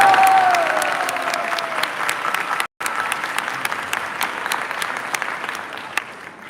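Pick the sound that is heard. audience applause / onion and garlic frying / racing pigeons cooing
audience applause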